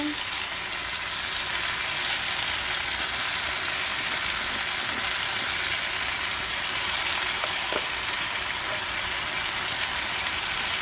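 Seasonings go into Jamaican-style curry chicken in a pot, which gives a loud, steady, unbroken sizzle and crackle close by.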